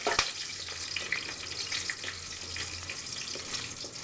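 Garam masala tempering in hot mustard oil in a kadai, a faint continuous crackle and sizzle with a few sharp pops near the start, quiet and close.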